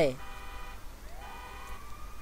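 Ambulance siren in GTA V, a short rising electronic wail that starts, fades and sweeps up again, heard under game noise.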